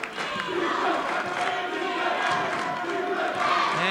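A crowd at a boys high school basketball game roars and cheers, a loud sustained wall of voices with shouting running through the whole stretch.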